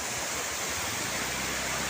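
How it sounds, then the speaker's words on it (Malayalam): A multi-tiered waterfall tumbling over four or five ledges at Chinnakanal, Kerala, gives a steady, dense roar of rushing water, even and unbroken throughout the short stretch. "ഈ വെള്ളച്ചാട്ടം ഇങ്ങനെ നല്ല രസകരമായിട്ട് പല തട്ടുകളിലായിട്ട് 4-5 തട്ടുകളിലായിട്ട് ഒഴുകി വരികയാണ്."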